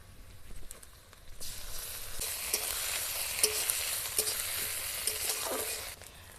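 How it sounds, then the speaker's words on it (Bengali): Ginger-garlic paste fries in oil with browned onions, a steady sizzle starting softer then growing loud and continuous, with occasional stirring scrapes and pops over the hiss. "আদা রসুন ভালো করে ভাজা ভাজা হয়ে গেছে"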